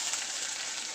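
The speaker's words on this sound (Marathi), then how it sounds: "कांदा टाकून त्यात चांगल्या प्रकारे परतून घ्यायचा" Onion frying in hot oil on a gas stove, a dense, even sizzle that holds steady at moderate volume for a brief moment with no voices.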